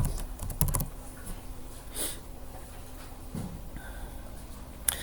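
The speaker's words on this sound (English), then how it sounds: "So I'm just going to type in grass." Computer keyboard typing while entering a material search term in architectural modelling software, a few soft scattered keystrokes and clicks up close over faint room noise.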